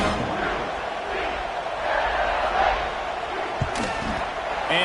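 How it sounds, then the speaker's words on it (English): Stadium crowd at a Cal vs UCLA college football game, a steady loud murmuring buzz after a score, continuing under an announcer's commentary. "this crowd is buzzing after that last score"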